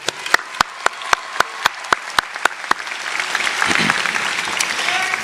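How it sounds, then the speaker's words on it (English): At a community college graduation ceremony, a few sharp, evenly spaced claps ring out close by before a fuller crowd applause swells and carries on. "can you please give a huge round of applause for your family and loved ones who helped you get to this moment today?"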